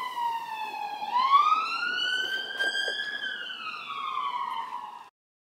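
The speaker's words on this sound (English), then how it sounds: "police sirens in this area, you can hear them for a mile" A single wailing police car siren rises and falls in a smooth sweep, loud and clear, then cuts off abruptly.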